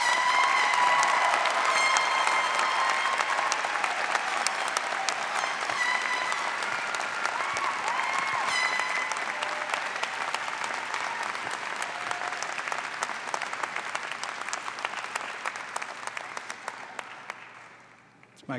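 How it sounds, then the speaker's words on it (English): Sustained applause from a large audience at a 2018 chemistry and biochemistry university commencement ceremony, a dense, even wash of clapping that carries on for many seconds before tapering off near the end. "Please join me in a round of applause to congratulate all our graduates."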